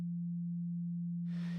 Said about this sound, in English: You're arriving at the pulse wave timbre just directly from a pure tone like the sine wave here.